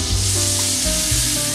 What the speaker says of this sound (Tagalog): gigisa na natin ang ating bawang at sibuyas